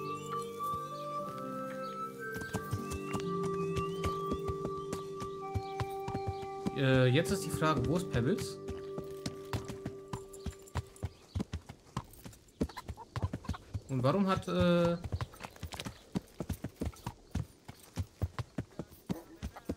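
Horse hooves clip-clop steadily in Kingdom Come: Deliverance as the player mounts and rides, the rhythmic steps continuing under someone talking, with a couple of whinnies rising briefly.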